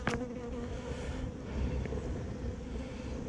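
Honey bees buzzing around a hive, a continuous close, dense hum filling the whole stretch with no talk.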